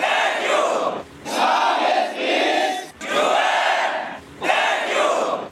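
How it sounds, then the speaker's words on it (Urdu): Crowd at a rally, participants dressed in white, chanting slogans in loud unison bursts, four or five rhythmic shouted phrases separated by brief pauses. "شرکا نے UN تھینک یو اور اسلام از پیس کے فلک شگاف نعرے لگائے"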